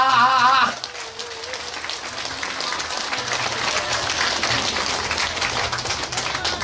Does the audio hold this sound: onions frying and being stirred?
no